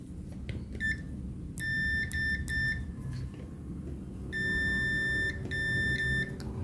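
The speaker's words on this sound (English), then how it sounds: "let's check with the continuity test" A multimeter on continuity test beeps against a replaced fuse from a 50-inch Samsung TV: several short, clear electronic tones, then two longer sustained beeps, close and loud over faint background hum.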